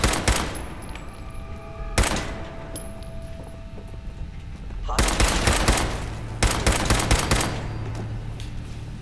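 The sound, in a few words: gunfire in the Fallout 4 video game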